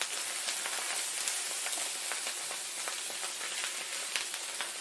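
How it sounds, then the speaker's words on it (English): Sisig sizzles on a hot sizzling plate at an outdoor Asian festival in Columbus, Ohio, with the heat turned off: a steady, bright frying hiss dotted with fine crackles and spits, heard alone. "You don't want the sizzling plate to be also too hot because it's gonna burn the bottom."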